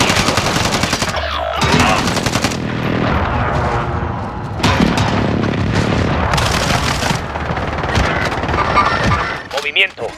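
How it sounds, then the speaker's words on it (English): Precision airstrike explosions in the Call of Duty Warzone video game on Rebirth Island come as loud, dense booming blasts mixed with rapid gunfire, running almost continuously with game voices in the mix. "Be advised, friendly precision airstrike inbound."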